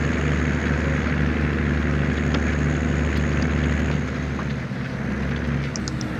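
Tractor engine in the Farming Simulator 17 video game, a steady, droning mechanical hum with a low throbbing rumble, fairly loud and continuous, with no talk.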